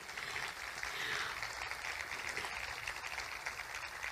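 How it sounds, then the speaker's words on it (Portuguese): A steady wash of faint, distant applause from an audience honoring the musician Jorge at an event, continuing evenly for several seconds without clear voices above it. "Por favor, uma salva de palmas para ele"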